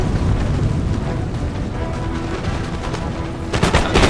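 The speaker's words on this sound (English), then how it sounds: "These men on this flank are taking shots into the cannon." Musket volleys and cannon fire from a large Empire: Total War battle, a steady wash of crackling gunshots with heavier booming blasts breaking out near the end, no speech.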